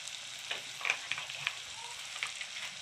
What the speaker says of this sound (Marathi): आणि आता जरा कांदे टमाटे जरा शिजू द्या व्यवस्थित।